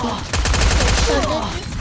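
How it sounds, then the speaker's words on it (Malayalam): Rapid bursts of gunfire from the battle royale game Free Fire crackle loudly over a steady low rumble, continuous for the whole short stretch. "ആരാൻ്റെ വെടിയിട്ടുണ്ട്."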